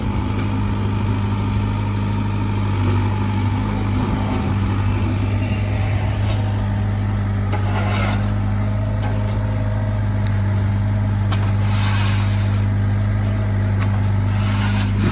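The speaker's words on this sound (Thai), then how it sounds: "รถไถเพื่อนมานี่แล้ว" A steady tractor engine drones and idles continuously at close range, with a constant low rumble throughout.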